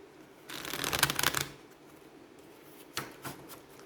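Tarot cards being shuffled, a close riffling burst lasting about a second, then a short second flurry of card flicks in a quiet room.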